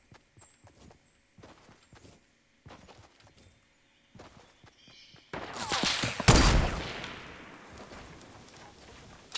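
Gunfire in Fortnite: a few scattered soft shots and footsteps, then a loud burst of shots near the end with a short echoing tail.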